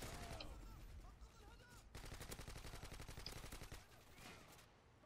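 Gunfire from the video game Modern Warfare 2, heard as rapid automatic bursts of shots that rattle off in quick succession and stop abruptly, loud in the game mix, with a few separate shots before them.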